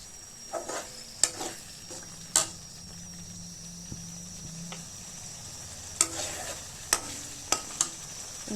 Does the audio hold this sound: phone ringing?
no